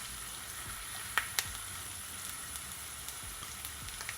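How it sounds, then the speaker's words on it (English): Onions and garlic sautéing in a hot pan for Jamaican fried rice, a soft, steady sizzle with a few sharp pops and crackles, fairly quiet and heard alone. "So now I'm just gonna add some of my onions. I'm not gonna add all of it. With my garlic,"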